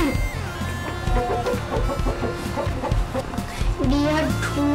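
Hens and roosters cluck and call repeatedly at close range on a farm, a busy overlapping stream of poultry sounds with a voice talking now and then.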